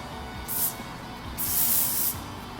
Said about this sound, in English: This is the Anti-Humidity spray.